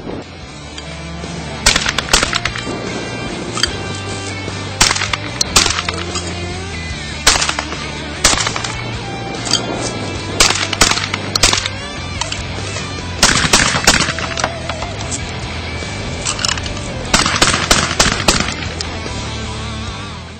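Beretta Extrema 2 shotgun fired in rapid succession, loud close blasts coming in quick clusters with brief pauses between strings, no talking.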